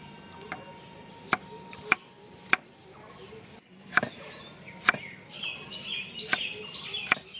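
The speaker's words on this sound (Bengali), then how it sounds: "আমি এখানে গাজরটাকে ছোট ছোট করে কেটে নিচ্ছি" Carrots being chopped into small pieces with a knife on a board, a series of sharp, irregularly spaced knocks, close and crisp, over faint background noise with bird chirps.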